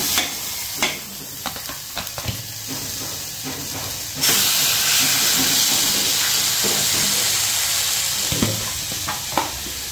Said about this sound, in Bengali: এবার এর মধ্যে দেবো এই যে চিকেনটা আমি অনেকদিন আগে ম্যারিনেট করে রেখেছিলাম